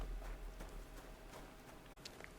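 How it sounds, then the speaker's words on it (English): Horse hooves clip-clop at a quick, steady rhythm, fairly faint and close, with a brief dip near the end. "this is a crazy horse"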